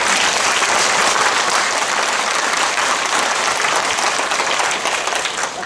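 Sustained applause from an audience at a residents' information session on a public redevelopment plan in Ahyeon-dong, Mapo-gu, Seoul; dense, steady clapping fills the whole stretch and eases off slightly near the end.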